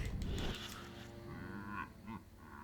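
Zombie cow in Destroy All Humans lowing in two or three drawn-out, nasal moos at moderate distance, with a brief thump at the start and no talking.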